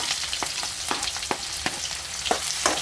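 Chopped onion sizzles and fries in a hot pan for a North Karnataka red chutney, with chana dal and urad dal, a steady hiss broken by several light scraping stirs, close and alone with no talk.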